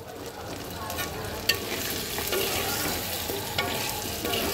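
Potatoes frying in oil with a steady crackling sizzle, broken by occasional stirring knocks from a utensil, no voices present.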